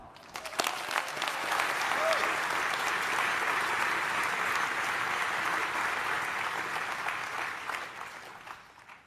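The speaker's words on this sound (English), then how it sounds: "Let's give a round of applause" A large audience at a Harvard speech breaks into sustained applause that swells quickly and holds at a steady roar for several seconds before tapering slightly.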